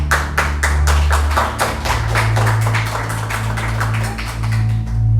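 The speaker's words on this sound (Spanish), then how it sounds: "Dale un aplauso al Señor." Loud, rhythmic unison clapping from a church congregation, sharp beats repeating at a brisk, even pace close by for several seconds.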